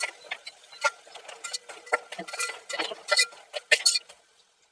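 Cut onion, cauliflower and carrot being stirred in a pan with a utensil, a run of irregular close scraping and clinking taps with a faint sizzle underneath, no voices.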